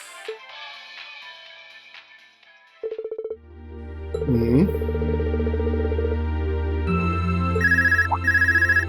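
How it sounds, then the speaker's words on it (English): A phone ringtone in the video game Trails of Cold Steel II rings out as a bright, repeating electronic melody over a steady low game music bed, loud and close, with no talking. "Okay, we got a phone call."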